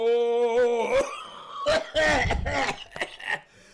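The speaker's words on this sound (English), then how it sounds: "now I got this horrible cough" A voice breaks into a series of harsh, rasping coughs and throat-clearing sounds, loud and close, in uneven bursts, from someone who quit smoking three days ago.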